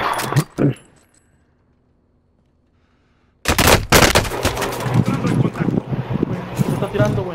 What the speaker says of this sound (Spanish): Ahí se ven los balazos